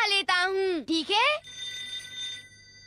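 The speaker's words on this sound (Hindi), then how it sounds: "मैं शिज़ुका को भी फोन करके बुला लेता हूँ" A telephone rings inside a cartoon family's house in a Doraemon episode, giving a short electronic trill. A cartoon voice speaks just before it.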